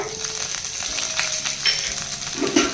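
Chana dal, urad dal and broken dried red chilies fry in hot oil, giving a steady close sizzle with faint stirring scrapes throughout.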